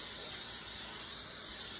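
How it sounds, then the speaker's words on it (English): A soft, steady hiss of cooking spray into a 9 by 13 baking dish runs for a couple of seconds, faint and continuous with no talking. "we're going to spray our 9 by 13 dish"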